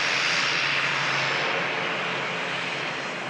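Ryanair airliner on final approach just before touchdown at Manchester Airport, a steady broadband engine roar that stays loud and fairly close, slowly easing over a few seconds with no talk.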